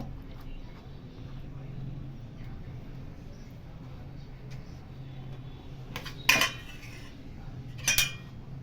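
A knife cutting ripe mangoes to scoop out the pulp for a no-oven mango pudding, mostly quiet room hum with two short, sharp clinks of the blade against a dish near the end.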